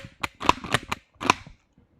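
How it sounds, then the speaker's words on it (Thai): A Commando 8.6 pistol fires at a 7-metre range, a close series of sharp cracks and bangs in quick bursts over about one and a half seconds, followed by quiet. "ลองดูนะครับจำนวนสามนัดเนาะเพราะลูกกระสุนมีน้อยแล้ว"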